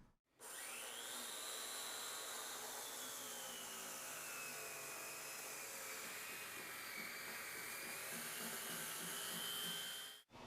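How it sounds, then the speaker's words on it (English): A high-pitched power saw fitted with doubled tiger blades whines steadily for about ten seconds, its pitch wavering slightly as it cuts out concrete joint filler, loud and close with no talking. "we've taken our saw, we've sawed out the joint"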